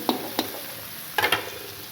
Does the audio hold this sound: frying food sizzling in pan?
yes